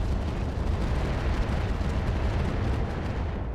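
Incendiary AC-20 autocannon firing in a mech combat game, a heavy rumbling barrage of booming blasts rolling together into a loud, sustained roar.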